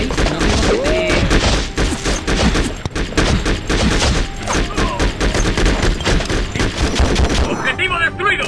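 Dense, continuous gunfire from the Conflict: Desert Storm 2 street-battle mission, with rapid bursts and repeated shots over a constant loud combat din, plus game voices speaking over it.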